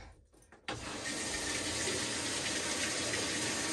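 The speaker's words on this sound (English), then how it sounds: "Let's run some water in it." After a brief quiet moment, water suddenly gushes and keeps running steadily into a small, inexpensive washing machine, a constant close hiss with no talking.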